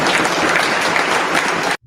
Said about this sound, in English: Of course, the NDP claps for that.